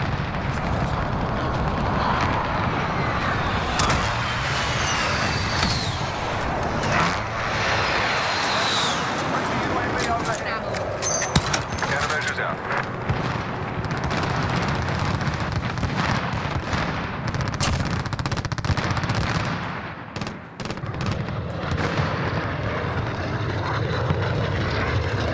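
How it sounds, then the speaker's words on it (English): A precision airstrike aircraft roars overhead in the Modern Warfare video game, a loud, sustained engine drone with rumbling blasts running through the whole stretch. "friendly precision airstrike inbound"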